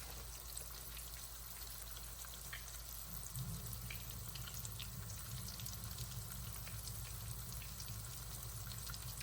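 Pork chops frying in hot grease, a steady dense sizzle and crackle heard close up and continuous throughout, with no voices.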